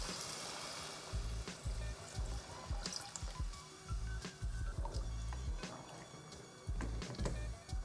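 Eight cups of water poured over chickpeas in a cooking pot, heard as a series of close splashing pours and drips that come in repeated bursts with short pauses between them.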